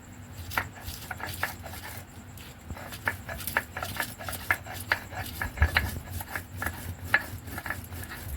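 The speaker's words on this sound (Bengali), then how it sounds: "এবারে লঙ্কা আর রসুন বেটে নিচ্ছি" Green chillies and garlic are ground on a grinding stone in steady rhythmic scraping and rubbing strokes that repeat closely and evenly throughout, at moderate loudness, with no voices.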